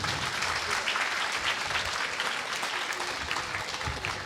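An audience at a Senior KG graduation ceremony claps loudly and steadily for a children's dance performance, a dense, continuous applause that fills the hall.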